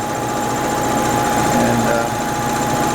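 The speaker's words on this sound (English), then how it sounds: "The air compressor is sure holding up well. I got a big pump and a 80-gallon Harbor Freight tank and a good motor." An air compressor with a big pump, a good motor and an 80-gallon Harbor Freight tank runs continuously, a loud, steady mechanical drone and rattle that fills the space.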